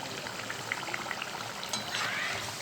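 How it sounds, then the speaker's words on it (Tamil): Vegetable masala patties fry in a pan with a steady, close crackling sizzle of scattered pops and hiss that continues throughout the clip. "சலசலப்பும் அடங்கி வருது"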